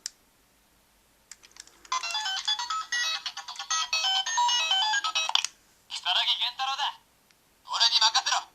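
Forza game ringtone played through the small speaker of a MagPhone toy phone, bright electronic melody in several bursts separated by short pauses, fairly close and thin-sounding.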